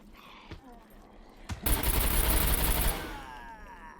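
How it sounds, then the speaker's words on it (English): AK rifle fire in the SCUM video game: two sharp single cracks, then a loud, dense burst of rapid automatic shots lasting over a second before fading. "And there go my AK shots."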